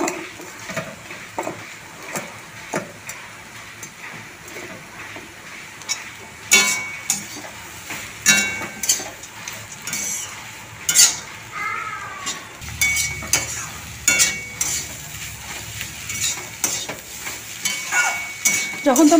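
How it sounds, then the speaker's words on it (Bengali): Greens with peanuts stir-fry in a pan, a soft sizzle under repeated spatula scrapes and clinks against the metal, irregular and close, growing busier toward the end. "ভালো করে ভাজা ভাজা করে নামিয়ে ফেলব"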